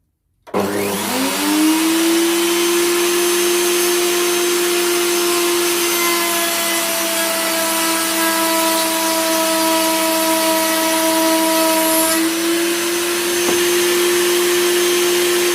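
A router spins up in a router table and runs loud and steady as a piece of chipboard is pushed through to cut a 3/4 inch trench, a constant high whine with a slight change in tone partway through.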